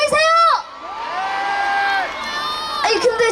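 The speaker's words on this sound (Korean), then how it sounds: "박수 한번 보내주세요" A festival crowd at a janggu drum performance in Boryeong cheers and whoops loudly, with shouting and a sustained high voice over the noise, the roar swelling at the start and end.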